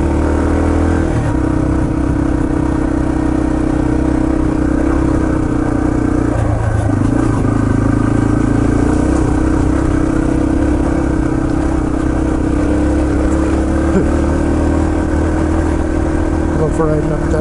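A Yamaha TT-R230 dirt bike climbs a hillside trail at Windrock Park, its engine droning steadily and close throughout, rising and dipping slightly in pitch as the throttle changes.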